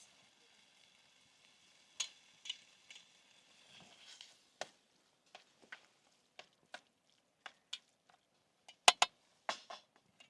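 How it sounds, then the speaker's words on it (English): Food being stirred in a pot on a camping stove outdoors: quiet, sparse scraping and clinking taps at an irregular rhythm, close by, with faint sizzle underneath. "Give it a mix."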